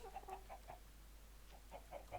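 Minecraft chickens clucking in short soft bursts, a cluster at the start and another near the end, with a steady low hum underneath and no talking.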